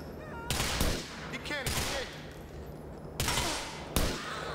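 Gunshots ring out in Grand Theft Auto IV as several sharp, loud cracks arrive in uneven succession, with chatter and background game sounds between them.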